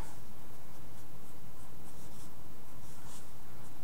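Pencil or pen drawing on paper with steady scratchy strokes, close and quiet, continuing without pause and with no talking.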